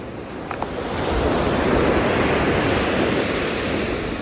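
Ocean waves wash steadily onto a beach, a broad rushing surf that swells after the first second and holds loud and continuous, with some wind noise and no voices.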